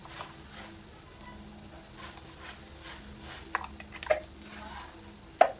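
Chicken masala with coriander, cumin powder and other spices cooking down in oil for coriander chicken curry: a soft, low sizzle with scattered spatula taps and scrapes growing sharper toward the end.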